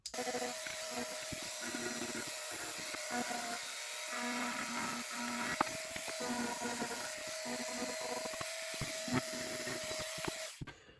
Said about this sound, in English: I'm just going to start kind of whittling away at it a little bit with this rotary tool right here